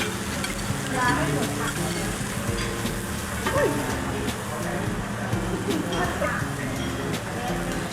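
Meat grilling on a tabletop grill at a hotel in Pattaya, a steady loud sizzle with scraping and clinking from utensils while people talk over it.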